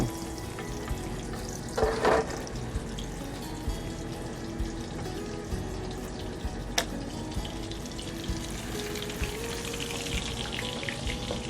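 Chicken cutlets for an open-face chicken cordon bleu sauté in a pan of olive oil and butter, a steady close sizzle and hiss lasting several seconds, with a brief louder spatter early and a single sharp click later.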